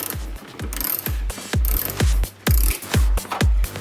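A socket ratchet loosens the nut on a car battery terminal while a dashcam is being hardwired into a BMW, a rapid series of sharp metallic clicks in quick bursts, close and distinct, with no speech.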